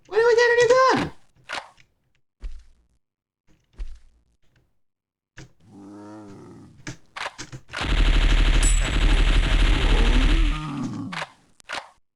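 Rapid automatic gunfire from a newly acquired weapon in a PC video game, with a short burst near the start and a longer sustained burst later, separated by quieter game sounds.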